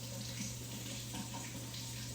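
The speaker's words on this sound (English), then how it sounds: "we'll run hot water around the edges of it just for a few seconds" Hot water runs from a tap over the edges of a frozen pint container of protein ice cream, a steady close rushing splash that holds even and continuous without pause.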